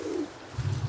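A brief, soft, low coo from racing pigeons close by, with faint background noise.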